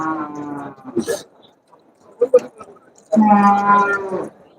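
Cattle lowing at a Monday livestock market in Melapalayam, with long moos near the start and again near the end, separated by brief shuffling noises and faint background activity.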